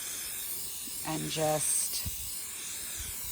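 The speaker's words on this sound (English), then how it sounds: "It also says to spray 10 to 12 inches away and to spray in just like even coats." A can of spray paint hisses onto a wooden porch sign, a steady sharp hiss in the background. A person speaks briefly partway through.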